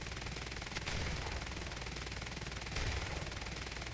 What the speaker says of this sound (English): You stupid cannons, these German cannons.